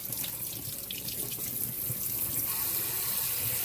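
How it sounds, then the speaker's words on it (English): Cucumbers rinsed under a running kitchen tap, a steady close hiss and splash of flowing water with no talking. "Let's get those cucumbers washed."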